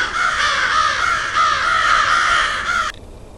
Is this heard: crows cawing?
yes